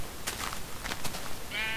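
A short sheep bleat in Minecraft, then a brief wavering baa at the end, fairly clear over a soft steady background hum.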